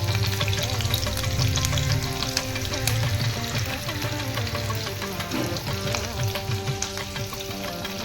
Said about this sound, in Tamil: வெங்காயம், இது கொஞ்சம் வதங்கட்டும்.